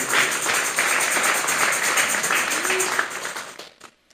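A church congregation applauding, steady dense clapping that holds loudly and then tapers off into quiet at the end.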